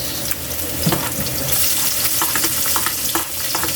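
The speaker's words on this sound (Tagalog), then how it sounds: "Ilagay na natin kay Ili yung sibuyas." Onions hitting a hot pan while cooking a fish dish, a steady close sizzle with some stirring scrapes and clinks, no voices over it.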